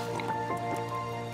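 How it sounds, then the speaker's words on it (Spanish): Drinking water in the video game Raft, a quick run of wet dripping, squishing gulps over a steady game hum, close and clear. "Bebemos agua."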